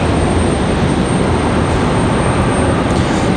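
An MD-11 cargo jet taxiing at Raleigh-Durham airport, giving a steady, fairly loud broadband engine rumble and hiss that holds constant throughout with no voices.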